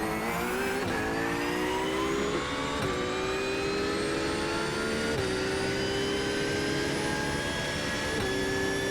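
GT3 race car engines at Le Mans at night in a racing video game, a continuous loud high-revving whine with rising pitch and brief dips at gear shifts, two cars running side by side.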